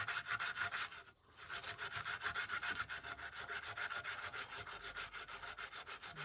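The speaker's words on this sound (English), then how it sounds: "Right now I'm just scrubbing off all of the dirt here if I can." Steady back-and-forth scrubbing of dirt off a GTX 1060 graphics card, rapid regular strokes, close and fairly faint, with one brief pause.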